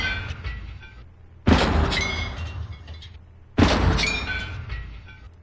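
Two blended tank main gun shots from Aces High 3, each a sharp loud blast with clanking breech and mechanical layers that rumble and decay, spaced about two seconds apart, close and with no talk.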